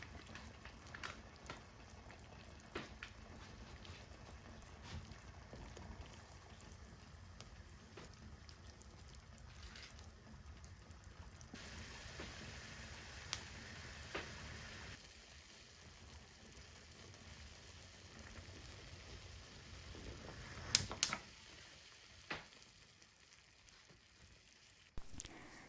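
Ramen noodles cook in a pot of boiling water, a soft, faint, continuous bubbling hiss with occasional small pops and clinks, no voices.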